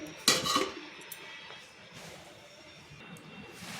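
A lid set onto a cooking pot, giving one short metallic clink near the start followed by faint clatter and quiet kitchen background.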